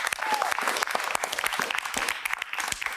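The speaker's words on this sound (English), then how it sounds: "Give yourselves a round of applause for showing up and doing this." A round of applause from an audience at a community event, crisp individual claps forming a steady, fairly close patter that holds through the whole stretch with no talking.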